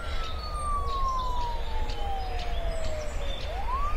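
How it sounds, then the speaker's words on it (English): A police-style siren wails at a distance, its tone sliding slowly downward and then sweeping back up over a constant low rumble of background noise. "I can hear a siren."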